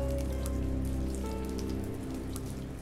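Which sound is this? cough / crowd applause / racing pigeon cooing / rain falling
rain falling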